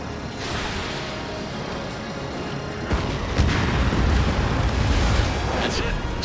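An enemy bomber exploding as it is shot down in Ace Combat 7, heard as a loud, sustained rumbling roar that swells midway amid continuous jet and combat noise, with no talking.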